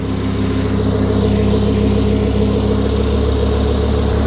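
An Audi R8 engine idles with a steady low hum and constant mechanical rumble while smoking, close by and unbroken, with no talking.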